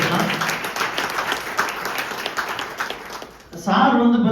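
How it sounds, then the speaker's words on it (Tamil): Audience applause at a Tamil Amway health and well-being opportunity meeting, a steady wash of clapping for about three and a half seconds that fades before a voice starts speaking. "பெரிய பாராட்டு கொடுக்கலாம்"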